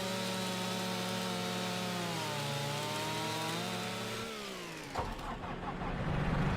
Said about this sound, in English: pull out my chainsaw, and cut off one side of the log to fix the balance